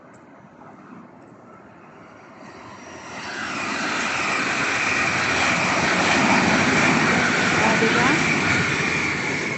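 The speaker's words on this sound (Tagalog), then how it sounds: "Ayan, sakto may lumabas na train." A train passes beside a railway walkway near the Chingma Bridge, its rumble building from faint to a loud, sustained roar. A voice speaks briefly over it.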